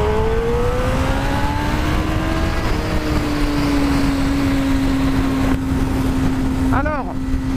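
A Honda CB1000R Black Edition roadster motorcycle rides and accelerates on new tires, its engine a loud steady drone that climbs in pitch and then shifts through gears.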